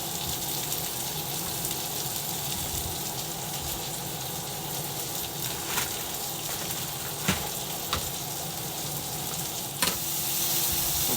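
Pork ribeye chops fry in a pan with a steady, loud sizzle and occasional sharp clicks and clatters from handling, no talking.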